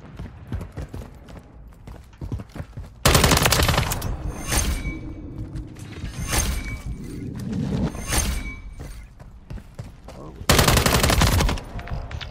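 Gunfire from a free-for-all shooter match on Scrap Yard and Skidrow maps, loud bursts of automatic fire and single cracks, spaced by quieter clattering footsteps and action.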